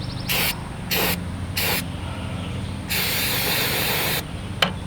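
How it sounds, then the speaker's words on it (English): Flex Seal aerosol sprayed into a gap in a boat transom, several short hissing bursts close by followed by one longer spray, then a brief final puff. "can we fix it with a little bit of Flex Seal?"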